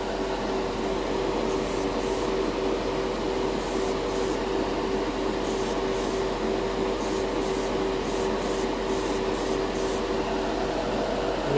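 An airbrush sprays MODO metallic rose gold paint in a spray booth with a steady close hiss and a booth fan drone, cut by short repeated bursts of higher-pitched spraying, no talking.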